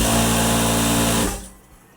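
A sewing machine stitches blouse fabric, its loud, close, steady mechanical whir running evenly and then winding down and stopping.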